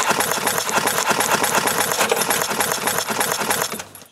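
A power sander works over wooden deck boards during a deck restoration, giving a dense, continuous, rattling buzz that stays loud and close before tapering off at the end.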